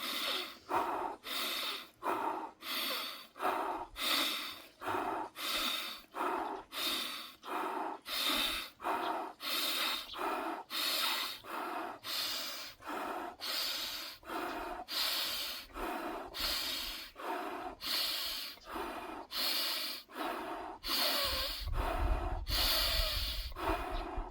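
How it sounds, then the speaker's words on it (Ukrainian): Forceful rhythmic pranayama breathing, a long series of sharp, evenly spaced nasal exhalations heard up close and loud, with no talking. "Прана яма. Дихаю спочатку."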